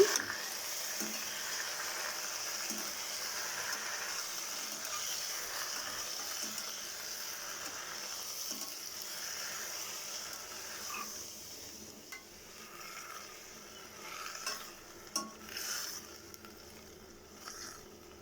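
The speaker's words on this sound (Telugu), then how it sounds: "పచ్చిమిర్చి కొంచెం వేగింది, గోంగూర వేసాను." Gongura leaves and green chillies frying in oil in a pan, a steady soft sizzle with occasional stirring clinks, close but quiet, easing off toward the end.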